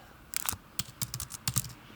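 Quick bursts of computer keyboard keystrokes in uneven clusters, close and fairly quiet, while entering numbers into a trader account job form.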